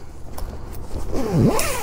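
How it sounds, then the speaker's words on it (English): A tight zipper is pulled closed on an Aquaglide Blackfoot Angler 160 kayak, giving a close, scratchy zipping with a rising-and-falling whine near the end, heard alone without talk. "this zipper, here, it doesn't want to close because it's tight here"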